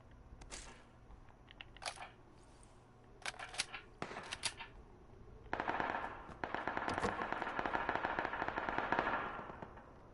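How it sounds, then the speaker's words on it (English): Gunfire in the PUBG battle royale game, with scattered sharp single shots and short bursts early on, then sustained rapid automatic fire that grows louder and denser toward the end. "I hear shooting already, y'all."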